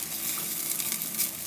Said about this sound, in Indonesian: Tumis sampai bawang putihnya juga kuning dan wangi